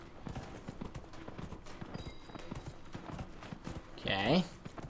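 Horse hooves clip-clop at a steady gallop in Dragon Age: Inquisition, a rapid rhythmic pattern running throughout under game ambience and a voice talking, with a louder burst near the end.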